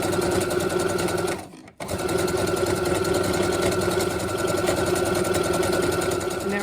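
A sewing machine hems the bottom edge of a cloth face mask, running in a loud, close, steady whir that stops briefly partway through and then starts again.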